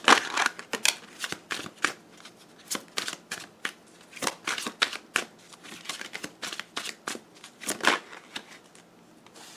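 Tarot cards being shuffled by hand in a long series of crisp riffling bursts, close and clear with brief pauses between, no talking.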